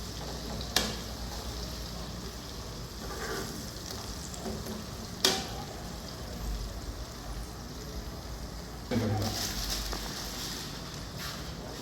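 Curry leaves frying in oil for a Thanjavur-style fish fry, a low continuous sizzle broken by a few sharp clinks and a louder spitting burst near the end, with no one talking.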